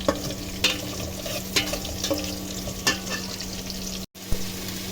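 Onions sizzle steadily in a hot pan while cooking pulao, with occasional scraping clicks from stirring and a brief break near the end.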